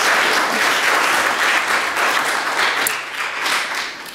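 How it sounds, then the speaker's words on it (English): Sustained applause from an audience at a Cranston city council meeting, a dense wash of many hands clapping continuously at moderate distance, steady without pause. "I'll ask the crowd to please hold applause."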